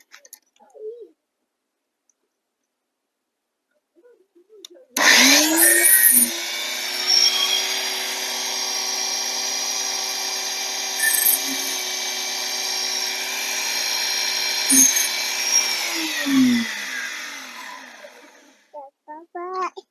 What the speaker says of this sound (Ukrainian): Ми будемо тестувати, як же ж ми заточили цеп.